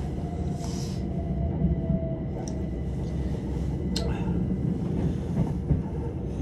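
Steady onboard rumble and rattle of a passenger train running from Chichester to Shoreham-by-Sea, heard from inside coach 7 of 8, with a few brief squeaks and faint background voices throughout.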